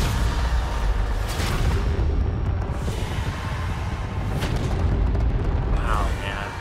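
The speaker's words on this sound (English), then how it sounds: "Launching a rocket." A loud, sustained barrage of booming blasts and explosions from the Battlefield 2042 video game, with rocket-launch bursts rising out of dense rumbling gunfire and battle noise that fill the whole stretch.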